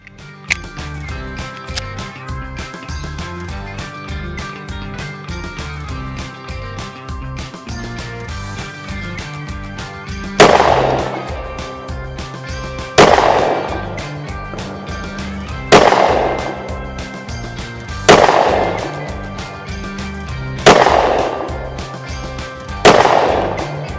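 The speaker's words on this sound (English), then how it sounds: "we got the same magazine loaded up with 124 grain 9mm Blazer Brass, and now we're going to shoot the target on the right" A 9mm micro compact pistol fires 124 grain Blazer Brass at a target 5 yards away: six loud sharp shots spaced a few seconds apart, each with a short ringing decay, over a steady background.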